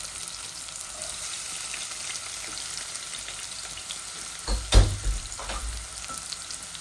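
Onion and bitter gourd (karela) fry in a pan with a steady, moderate sizzle, and a brief louder clatter of stirring lands near the end.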